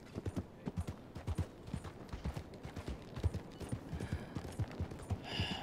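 Horse hooves clip-clop in a steady, fairly loud rhythm inside the video game Red Dead Redemption 2, with a brief bright metallic rattle near the end.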